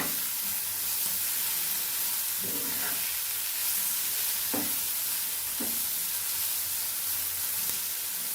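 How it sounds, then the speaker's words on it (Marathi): Coriander-laced mixture stirred in a hot pan, with a continuous sizzling hiss and a few soft scraping strokes of the spoon at irregular intervals. "हे सर्व मिक्स करायचे आपल्याला आता."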